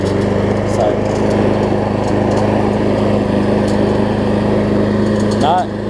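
A Troy-Bilt TB360 rear-drive, big-wheel self-propelled lawn mower runs at a steady, even engine drone, close and constant, then cuts off abruptly near the end.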